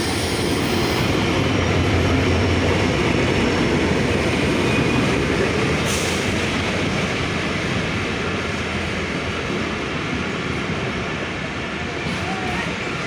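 The Rajshahi-bound Titumir Express, hauled by locomotive 6614, pulls in at Saidpur station platform 2. It makes a loud, continuous rumble and roar of wheels and carriages that holds steady for the whole stretch.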